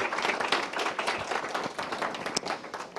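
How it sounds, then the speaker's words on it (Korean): An audience at a forum event claps for a guest speaker and interpreter, a close, continuous patter of many hands at moderate loudness with no pause. "박수 쳐주시기 바랍니다"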